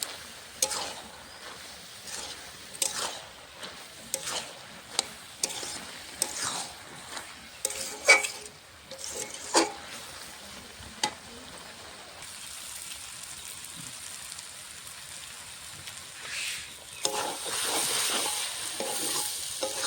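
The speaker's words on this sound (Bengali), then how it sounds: "দেখো পাতাকপিটা কষাতে কষাতে কমে গেছে, আরও কমে যাবে।" Cabbage with peas and carrots sautés in a pan, giving a faint bed of sizzle broken by repeated scraping stir strokes at an uneven rhythm, close up, with the frying growing steadier and louder toward the end.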